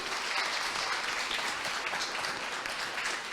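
An audience applauds a speaker named Marcos at the end of a talk on interfaces, with dense, steady clapping sustained at full strength throughout and no voices over it.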